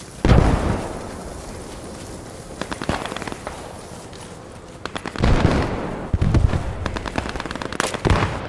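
Gunfire and explosions in the WW2 video game Post Scriptum: a loud nearby blast, then rapid machine-gun bursts and scattered shots, with a second heavy burst of automatic fire and booms toward the end.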